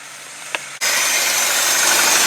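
An abandoned 1989 Ford F250 service truck catches after four years unused: near-silence, a brief click, then the engine bursts into life and settles into a loud, steady, rough idle with no talking.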